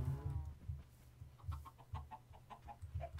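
Minecraft chicken clucking in a video game: a series of short, evenly spaced clucks over a steady low background hum, with no talk.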